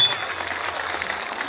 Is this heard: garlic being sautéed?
no